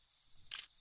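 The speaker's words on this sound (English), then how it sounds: "It's kind of cool, honestly, the little camera shutter." A single quick, faint camera shutter click in a Japanese indie horror video game, heard over a steady high ambient hum.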